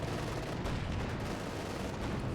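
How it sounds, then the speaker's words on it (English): Panther tank firing on T-54 tanks in the strategy game Company of Heroes 2, a dense, continuous roar of battle gunfire and blasts filling the whole stretch at steady loudness, with no clear individual shots standing out. "Panther fires away, firing at the counter on the T-54s."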